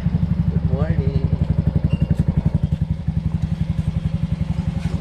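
Yamaha Sniper 2020 motorcycles idle close by with a rapid, steady thumping putter, while people talk over the engines.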